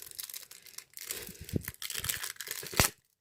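Foil pack of Dragon Ball Super trading cards torn open, a close crinkly run of crumpling and ripping with a sharp final tear, heard alone.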